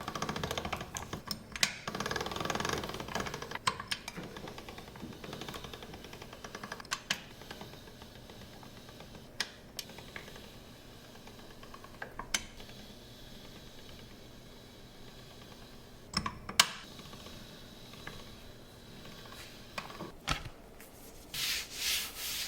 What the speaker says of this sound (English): So we put it through the pasta machine on this setting.